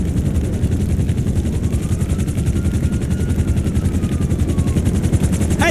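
A police helicopter chases the player in GTA V, its loud, close rotor chop pulsing steadily throughout, mixed with bursts of gunfire and no voices.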